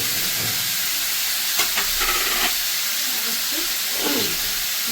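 Onions and green chillies sizzle in fish oil in a home kitchen pan, a steady close hiss with a few brief stirring scrapes partway through.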